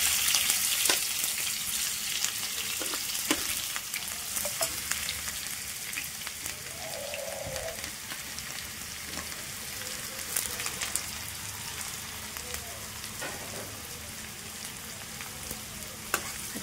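Three large onions fry in a pan with garlic, giving a steady close sizzle with occasional crackles and spoon scrapes and no talk.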